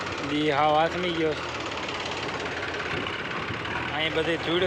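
A tractor engine running in a dusty farm field, a continuous mid-range rumble under nearby people talking.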